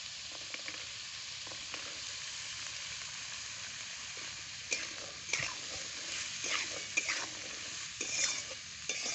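Peas being stirred into flattened rice pulao frying in a pan: steady soft sizzle with scraping spoon strokes, growing busier and more rhythmic in the second half, close and alone.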